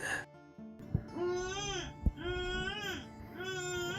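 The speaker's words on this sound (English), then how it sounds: "The same newborn cry." A newborn baby's wail cries out in wavering, rising-and-falling bursts, three long sobs separated by short catches of breath, fairly close and steady in loudness.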